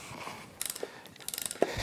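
A wrench works a propeller off a Mercury Tracker 25 outboard gearcase, giving two quick bursts of close metallic ratcheting clicks separated by a short pause.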